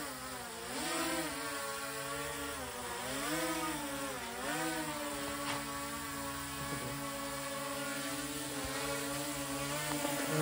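A drone carrying a weight hovers with a loud, steady propeller buzz that swells and dips in pitch as its motors work against the load, close by and continuous.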